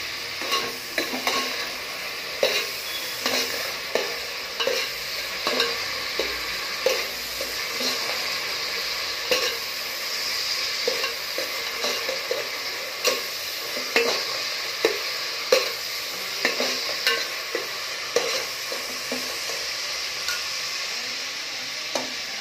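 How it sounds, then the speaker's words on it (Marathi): Tomato sautés in a hot pan, a constant frying hiss overlaid by repeated spatula scrapes and taps in a loose, steady rhythm, close and fairly loud, with no talk. "टोमॅटो पण चांगला परतून घ्यायचा"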